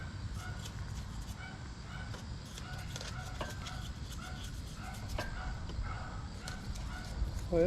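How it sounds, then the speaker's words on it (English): Dogs bark repeatedly in the distance, short sharp yaps scattered over a steady outdoor din, with chickens clucking faintly in the background. "boy, that dog is upset. A little noisy over there."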